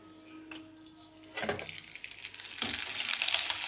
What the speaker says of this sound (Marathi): आता मी कढईमध्ये तेल टाकलेलं आहे तेल तापलं तर मी तुम्हाला एक पापड पूर्ण तळून दाखवते